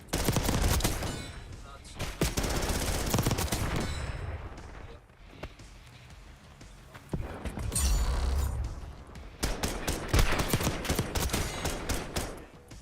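Video game combat in which a sniper fires: bursts of loud gunfire and rapid shots crackle close by, broken by a quieter stretch in the middle, with no talking.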